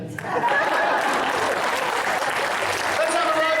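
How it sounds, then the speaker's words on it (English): An audience applauds a grand prize winning writer at a live theatre show, with loud sustained clapping that swells in quickly and holds steady, a few chuckles and murmurs underneath. "Let's have a round of applause for the grand prize winning writer of the Boone's Mystery, Miss Leah Agataji."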